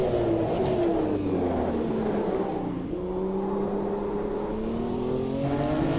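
A BMW M1 Procar race engine in Automobilista 2 revs loudly and steadily, pitch sweeping down then climbing again, close and continuous with no talk.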